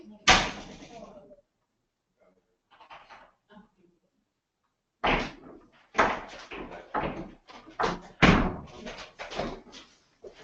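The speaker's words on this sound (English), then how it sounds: "My dog just charged at the door to try and say hello" A dog charges into a door, giving a sharp loud bang at the start, then quiet, followed by more thuds and knocks mixed with people talking nearby.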